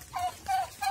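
A hen gives three short, close clucking calls in quick succession, with no voices over them.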